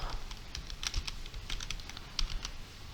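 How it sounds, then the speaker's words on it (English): Keys clatter on a computer keyboard in a quick, uneven run of close, light taps, with no voices. "You need to type PowerShell."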